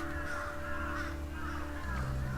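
Crows caw in the Final Fantasy XVI video game: a few faint, hoarse calls repeat over a low, steady game ambience and background music.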